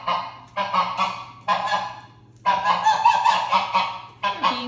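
Domestic goose honking indoors: several loud, close, raspy honk bursts in quick irregular succession, separated by short pauses, with no talk.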